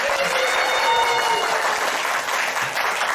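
An improv theater audience at a Dungeons & Dragons show claps together to vote, a steady dense burst of applause from a crowd that fills the room without letup.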